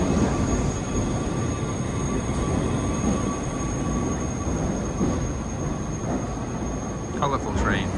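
A passenger train on the line to Wengen rumbles steadily nearby, with a constant broadband roar and a thin high whine, and a brief metallic squeal near the end.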